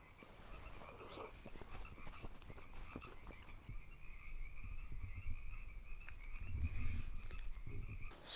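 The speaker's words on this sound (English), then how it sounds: "You hear all the frogs" Frogs croak in a pond at a winter campsite in Henry W. Coe State Park, a faint, steady chorus of repeated calls heard from some distance, with no talking.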